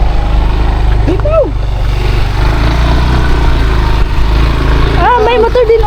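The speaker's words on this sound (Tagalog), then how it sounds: "Ah, may motor din oh." A motorcycle engine runs steadily on a rough rural road near a broken bridge, a continuous low mechanical hum close by. People talk and call out over it.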